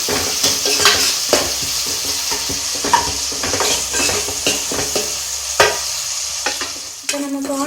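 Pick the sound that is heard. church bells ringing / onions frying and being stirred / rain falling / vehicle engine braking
onions frying and being stirred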